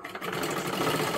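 A sewing machine runs steadily while stitching a blouse, a continuous mechanical whir with a fast rattling rhythm that holds at an even, close level throughout.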